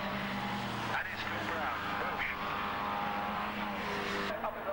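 Formula Vee race cars, among them the Scarab Mark II, pass at a 1991 Volkspares Formula Vee race, their engines droning steadily at a moderate distance beneath continuous commentary.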